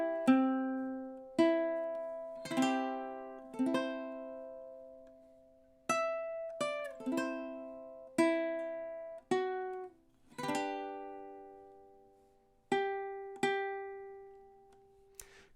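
Ukulele plays the first four measures of The Star Spangled Banner, including the pickup bar, as a sequence of plucked and strummed notes, each ringing out and decaying, with clear gaps between phrases.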